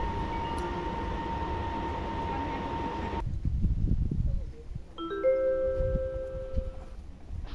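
An Arriva express train draws into a station platform at Horní Lideč, heard as a steady rumble that cuts off abruptly, followed by closer clanks and squealing brake or wheel tones.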